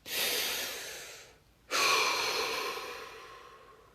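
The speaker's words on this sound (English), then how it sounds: "Deep breath." A deep breath drawn in slowly, a short pause, then a long, breathy exhalation trailing off, close and fairly quiet in an otherwise still room.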